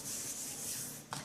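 Fondant being rubbed by hand all over a cake to smooth it and press it down: a soft, steady, close-up brushing friction with a brief stronger swipe near the end.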